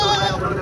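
A goat bleats at a busy goat market in Sindhri, one short wavering call close by with crowd noise behind it.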